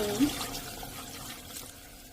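Water pours briefly into a pot of chicken with spices, turmeric and salt, a soft, splashing trickle that fades within a couple of seconds, fairly close and not loud.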